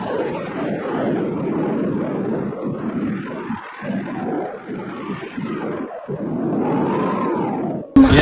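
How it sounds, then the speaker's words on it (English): A plutonium bomb explosion and plane crash from an old science fiction film rumble as a continuous deep roar with rolling, booming waves and a rising engine-like whine, loud and sustained throughout. "The plutonium bomb goes big bada boom."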